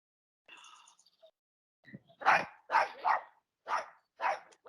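A dog barks in short, loud bursts, six or so in quick succession, after a brief quieter sound at the start; no one speaks over it.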